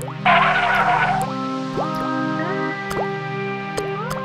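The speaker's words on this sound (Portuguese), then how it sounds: "Gerda notou água pingando das rochas." Water drips from rocks in an animated cave scene, a few distinct drops landing under sustained background music after a brief splashy burst.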